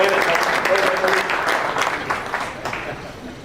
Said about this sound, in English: they're really going to deserve a round of applause